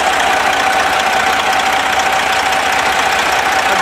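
The diesel engine of a 2008 Freightliner Columbia truck idles with a loud, steady, even clatter that holds constant throughout, with no speech over it.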